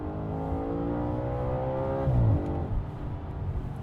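An Audi RS5 Coupe's engine revs up with rising harmonic tones, then drops sharply as the revs fall and it settles back into a lower, rougher idle, close and loud.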